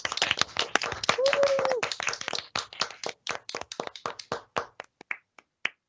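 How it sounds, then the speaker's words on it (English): A round of virtual applause at the closing session of a 2020 online conference: a dense burst of hand clapping that thins into scattered, separate claps and fades out over several seconds. "So let's have a round of applause, please, for our new CEC and Board of Trustees."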